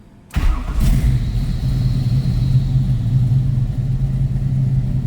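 A 1970 Chevrolet Camaro Z/28 fires up from cold after a short silence, then settles into a loud, steady, rumbling idle with a slightly uneven lope that continues to the end.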